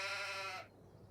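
In Farming Simulator 22, a sheep lets out one short, loud bleat that cuts off sharply after about half a second, followed by quiet game ambience.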